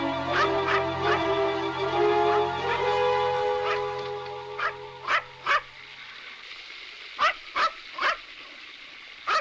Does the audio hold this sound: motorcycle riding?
no